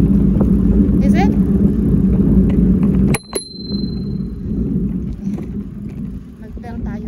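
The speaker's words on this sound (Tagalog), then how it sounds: "Mag-bell tayo para ano nila na may tao sa likod." A bicycle bell rings sharply once, loud and close, out on a city street among steady traffic rumble from passing cars, with voices talking before and after.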